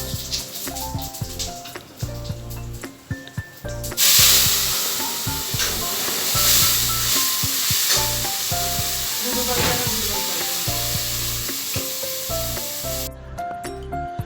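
Tomato and chili puree hits hot ghee with cumin in a home kitchen pan, giving a loud, steady sizzle and hiss that surges suddenly and holds for about ten seconds beside clanking and stirring, with background music underneath.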